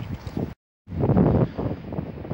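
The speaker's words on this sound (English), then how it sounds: "it's been quite difficult to film because it's been ferociously windy" Heavy wind buffets the microphone with a loud, low rumbling roar, cut off by a brief silence before gusting back in strongly.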